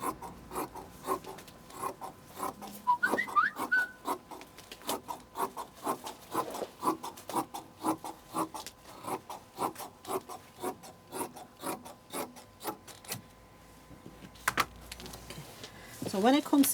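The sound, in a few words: cutting a paper dress template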